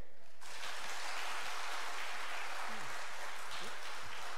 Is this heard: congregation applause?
yes